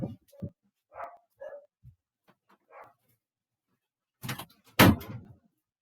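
Small dogs barking indoors during a spoken-word talk: a few short, sharp yaps early on, then two louder, heavier barks close to the microphone near the end.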